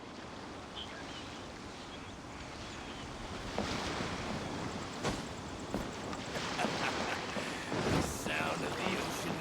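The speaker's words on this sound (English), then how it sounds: "Sound of the ocean waves." Ocean waves wash steadily in the open-sea setting of the video game Genshin Impact, a soft continuous surf under light wind noise that swells slightly louder in the second half, with no voices.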